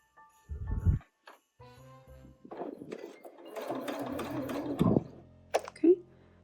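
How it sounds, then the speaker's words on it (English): A sewing machine stitches fabric pieces of a quilted holiday mug rug, starting with a few short anchoring stitches and then running in a close, steady whirring burst before stopping, with small clicks after. "I'm going to sew from this side where I have better control."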